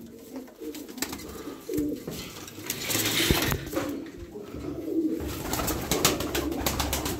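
Pigeons coo softly amid a busy, rustling background of shuffling and scattered clicks, with the low throaty calls recurring close by over several seconds.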